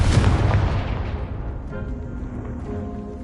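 A Confringo fire spell explodes in Hogwarts Legacy, one loud boom at the start that fades into a ringing, crackling tail.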